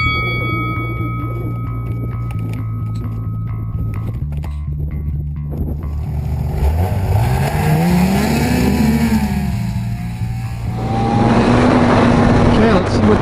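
A Ski-Doo snowmobile with adjusted TRA clutch clickers runs on a trail, its engine holding a steady drone then swelling and revving upward in pitch, loud and close throughout.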